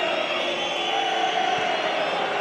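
Around 1,100 travelling Trabzonspor supporters boo inside Liverpool's stadium during a Europa League qualifier, a dense sustained crowd roar that stays steady and loud throughout, with faint commentary talk buried beneath it.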